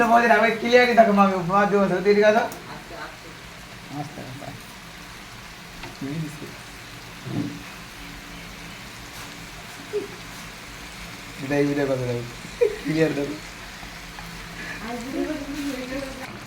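Jackfruit sautéing in a pan with sugar added, a soft steady sizzle and stirring running underneath a voice talking over it through most of the stretch.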